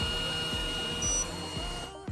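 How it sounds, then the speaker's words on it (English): A small cooling fan spins on the motor of an RGT Land Commander EX86160 RC car, a close, steady whirring hum with a faint rhythmic pulsing underneath, ending abruptly. "There's the fan. It's pulling air upwards, so it's keeping this motor from being overheated."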